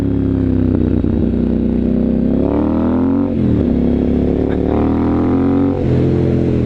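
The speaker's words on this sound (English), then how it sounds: "So I'll just take you for a quick spin on it so you can see what it's like to ride a Scrambler." A Triumph Scrambler 900 motorcycle fitted with an Arrow exhaust is ridden, and its loud, close engine note rises and falls through repeated revs and gear changes, with steady rumble throughout.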